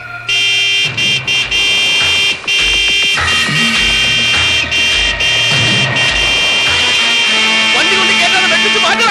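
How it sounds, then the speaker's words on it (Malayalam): A vehicle horn blares loudly in long, repeated blasts on a road, with brief gaps between honks and engine noise and voices underneath. "നീ ഹോണടിച്ച് വണ്ടി വിടും."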